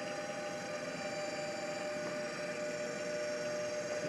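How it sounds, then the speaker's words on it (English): An old Blume & Redecker coil winder winds wire from a spool onto a bobbin, producing a faint, continuous whirring hum with steady tonal whine and no pauses or speech. "winding a coil with the old Blume and Redecker coil winder I got at the"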